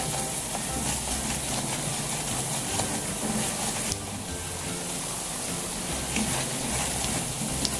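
Spices sizzle and fry steadily in a light brown garlic-ginger paste, a continuous loud crackling hiss with no talking.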